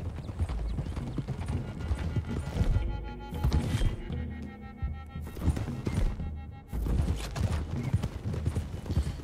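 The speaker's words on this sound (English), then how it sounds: "Imagine riding around on horses like this is your means of transportation" Horse hooves clip-clop in a rapid, rhythmic gallop while riding in Red Dead Redemption, loud and close, with occasional snorts and a brief whinny, pausing and resuming in bursts.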